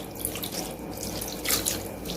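Water is poured lightly from a small tumbler over tamarind in a kitchen, a steady close splashing trickle running throughout without any voices.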